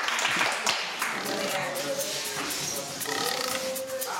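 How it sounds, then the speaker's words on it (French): A group of schoolchildren in Casamance, Senegal, claps in uneven bursts, with scattered hand strikes and children's voices mixed in at moderate loudness. "Applaudissez-vous"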